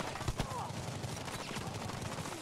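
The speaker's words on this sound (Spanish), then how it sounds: "Ráfaga de balas." A rapid burst of gunshots in Battlefield V, sharp repeated cracks in quick succession, fairly faint against a busy background.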